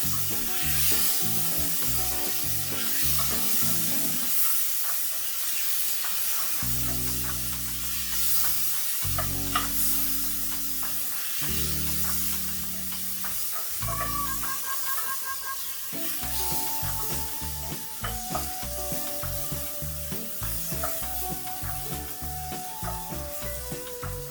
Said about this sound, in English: Fresh tomatoes, straight from my garden, with the juices and everything in them. All right, gonna toss it around a bit.